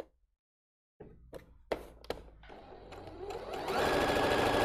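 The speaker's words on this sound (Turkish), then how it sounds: "Buradan da bir çıma dikişi geçiyorum ki pileler düzgün dursun." A sewing machine stitches a seam to hold pleats in fabric: a few isolated knocks and short bursts after a second of silence, then a rapid, steady mechanical whirr that speeds up and grows louder, close by, with no voices.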